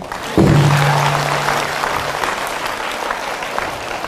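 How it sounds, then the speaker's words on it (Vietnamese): Sudden burst of applause from a Buddhist temple congregation during a dharma talk, starting sharply and continuing steadily, with a low hum briefly underneath at the start. "Vỗ tay."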